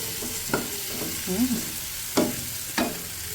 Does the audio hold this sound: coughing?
no